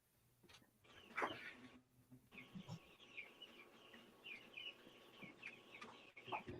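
Chickens cluck and call at moderate distance, a rooster's strained, drawn-out crow rising in the middle, with scattered clucks before and after and no talk.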